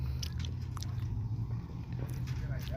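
Crisp, crunchy bites and chewing close to the mic, repeated several times in quick succession, with some low background noise.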